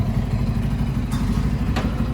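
A motorcycle engine idles and runs low during a beginner's riding lesson, a loud, steady, close rumble with a couple of brief sharp clicks or clatters, and no talking.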